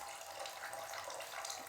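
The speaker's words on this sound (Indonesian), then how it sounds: "kita siapkan air di panci. Kita tuangkan." Water pours into a cooking pot in a home kitchen with a steady, continuous splashing rush. It is close and even, with no talking.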